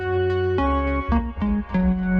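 A synthesizer patch called flute wobby plays a sustained, wavering tone that steps through several pitches, with sharp attacks and a chorus-like shimmer, loud and alone.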